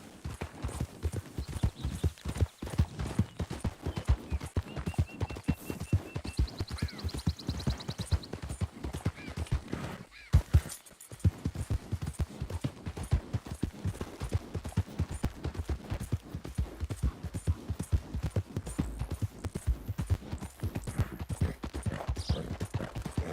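A horse walks in Red Dead Redemption 2, with clear, evenly spaced hoof clops close by that carry on almost without pause, briefly broken near the midpoint.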